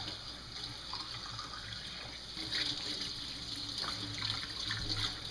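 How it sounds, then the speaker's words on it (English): Running tap water rinses out a duck carcass being prepared for the freezer, a steady, faint hiss and splash that swells slightly midway. "And then we'll just want to get that rinsed out real good."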